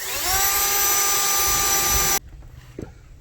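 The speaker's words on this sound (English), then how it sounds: "So I'm just going to drill these out." A power drill whines loudly and steadily while drilling out rivets on a Cadillac Brougham ball joint, holding one high pitch for about two seconds before cutting off abruptly into near-silence.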